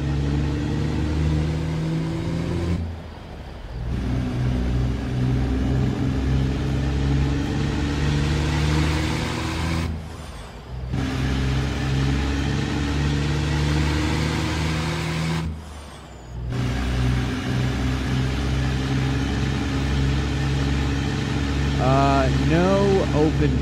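A Peterbilt day cab truck in a driving video game, hauling huge tires, gives off a steady low engine drone that dips briefly three times as gears change, with a voice speaking over it.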